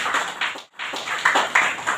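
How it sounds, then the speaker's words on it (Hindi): Applause from the audience at a national cooking competition in Bhubaneswar, honouring the event and venue partners: a short burst of dense clapping that breaks off briefly, then resumes steadily at moderate loudness. "हमारे पार्टनर्स के लिए एक बार जोरदार तालियां हो जाए"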